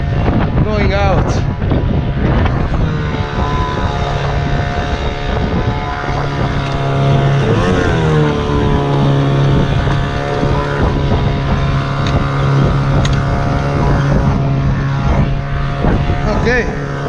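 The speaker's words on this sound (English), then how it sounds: "Let's put full gas. Yeah, full gas, going out." A motorboat engine roars at full throttle heading out in strong wind, loud and close, with heavy wind buffeting the microphone and the engine pitch rising and wavering throughout.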